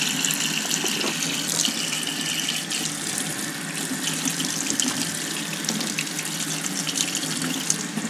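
Water from a tap pours steadily over a Man With No Name spaghetti western style hat, a continuous close hiss and splash with no talking.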